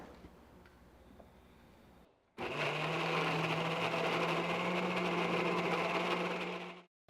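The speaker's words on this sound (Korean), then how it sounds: "믹서기에 곱게 갈아야 되거든요" A blender grinding chopped mugwort with a little water starts after a brief pause and runs loudly and steadily for several seconds, a strong whirring drone, then cuts off.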